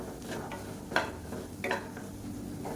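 Eggs being stirred in a pan with a spatula while cooking black channa dal masala, soft scraping strokes with a couple of sharper clinks against the metal, over a low continuous sizzle.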